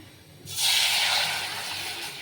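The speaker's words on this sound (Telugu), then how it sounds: "ఇవి కానీ పాలు వేసేస్తున్నాను" Milk poured into a hot pan of fried vermicelli for semiya payasam sets off a sudden loud hiss about half a second in, then a sustained steamy sizzle that slowly eases.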